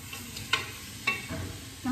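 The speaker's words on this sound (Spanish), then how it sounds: "aquí simplemente la voy a sofreír un poquito" Boneless chicken rib meat frying in a pan, a low steady sizzle with a couple of soft clinks as it is stirred.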